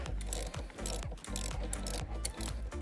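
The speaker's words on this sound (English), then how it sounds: "Now we'll remove the terminal itself by loosening this 10 millimeter right here." A ratchet clicks in quick repeated bursts while loosening the 10 mm nut on a 12V battery terminal in a BMW i4, a close, rhythmic mechanical ratcheting with short pauses between strokes.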